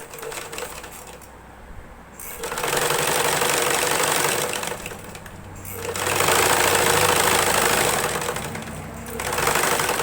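An electric sewing machine stitches fabric for a silk skirt in three loud, close bursts of fast, even whirring, with short quiet pauses between them.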